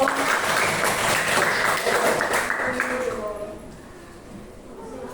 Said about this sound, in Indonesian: Tepuk tangan buat Lorenzo.